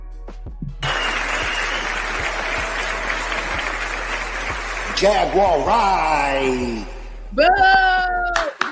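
Audience applause swells steadily for several seconds, then gives way to excited voices and a shouted boo as people talk over the fading clapping.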